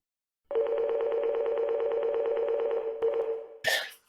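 A telephone rings steadily in a loud, fast trilling electronic pattern, breaking off briefly and then going on before a sharp clatter ends it. No voices are heard.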